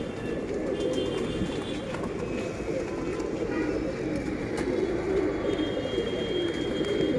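Teddy pigeons coo steadily in a loft in Mumbai, a dense, continuous murmur of many overlapping low coos filling the space at close range, with faint higher chirps and rustles scattered above.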